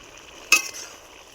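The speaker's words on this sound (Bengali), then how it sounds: "এবার দিয়ে দিচ্ছি পুঁটি মাছ ভাজা" Pre-fried puti fish tipped into a simmering pot of figs and potatoes with a little water, making one short, sharp splash and clatter that fades quickly against a quiet background.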